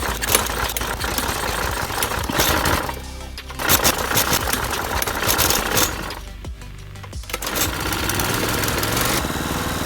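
A small engine runs loud and close, then settles to a rough idle with a faint knock, its rattling drone dipping twice as the revs drop before picking back up.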